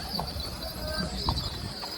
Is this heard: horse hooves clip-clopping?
yes